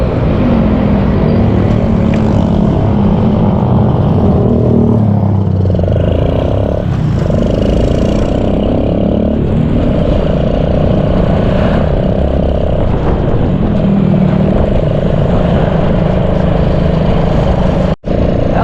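A motorcycle ridden along a road in Barangay Banga, Philippines, with rain expected. A loud, close, steady engine drone mixed with wind and road rumble runs unbroken throughout, with no talk.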